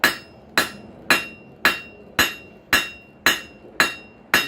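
A hammer strikes steel being tapered into a homemade center punch: nine evenly spaced, loud, ringing metallic blows, close up, with no voices.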